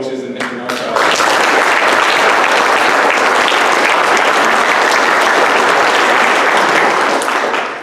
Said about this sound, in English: I think we need to give a round of applause to the assistant coaches and Mr. Norcross.